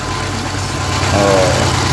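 A Mazda Baby Boomer car engine idles steadily at close range, a low continuous hum that swells slightly louder in the second half, with no talking.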